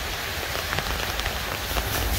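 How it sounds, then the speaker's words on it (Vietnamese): Rain pattering down at an outdoor used car lot, a dense, steady patter of drops striking surfaces close by, with no voices. "Mưa rồi."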